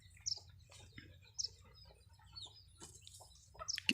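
A hen clucks softly in short, scattered bursts, with a few sharper chirpy notes, fairly faint against a quiet background.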